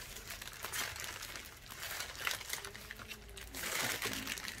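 Newspaper crumpled and pressed around a potted plant's loose soil to pad it for packing in a basket: a steady crinkling and rustling of paper, close up and fairly soft, running through the whole stretch.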